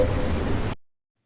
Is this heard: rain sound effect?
yes